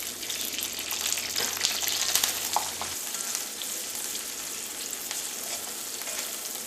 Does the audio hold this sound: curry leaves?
yes